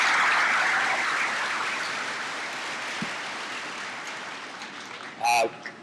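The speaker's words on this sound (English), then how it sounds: "Let's give you a round of applause." An audience at an eighth-grade parent night breaks into applause, dense clapping that gradually thins and fades out, followed by a brief spoken word.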